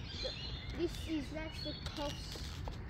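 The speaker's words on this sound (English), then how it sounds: "this is a nice creek, very small, murky, salt water. You hear the birds" Birds call and chirp in short, scattered notes beside a very small, murky saltwater creek, set against steady outdoor background noise.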